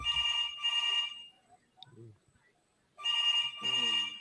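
Telephone ringing during a call, two loud double-burst electronic rings separated by a quiet gap where a voice briefly speaks, the ringing close and sharp.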